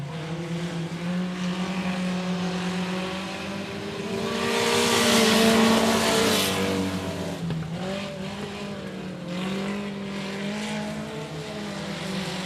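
Race cars roaring around the oval at 105 Speedway, a sustained engine drone that swells loudly as cars pass close midway, then recedes to a steady far-off pack.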